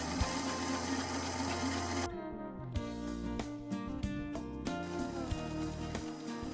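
A sewing machine stitches close to the folded hem of a pillowcase-style dress, giving a steady mechanical whir with a rhythmic needle clatter. It pauses briefly, then resumes with a ticking pulse, close and moderately quiet.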